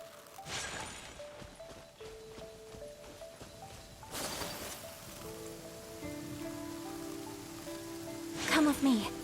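Rain patters steadily in Genshin Impact, a soft constant wash of drops with occasional footsteps and light clatter, mixed with faint tonal game music.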